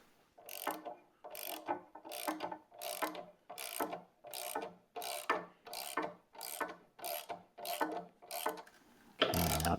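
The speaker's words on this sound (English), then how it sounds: "let's drive that shorter screw in first, and then we will drive the other ones" Twelve evenly spaced ratcheting bursts as a screw is driven into a wooden footstool top, each stroke a crisp, close mechanical rasp separated by brief pauses, ending with a louder, denser grind.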